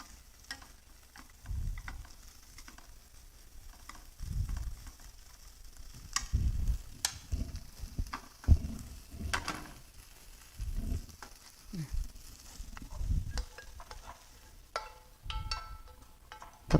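Bamboo shoots and lotus leaf stir-fried in oil for a summer temple dish, giving intermittent soft sizzling with scattered clicks and spatula scrapes, close and moderately quiet, no talking.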